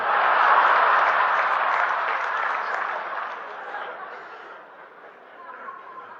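Polite applause from an audience at an inspirational speaking event, a broad wash of clapping that starts full and gradually thins and fades, with some murmuring and light laughter mixed in.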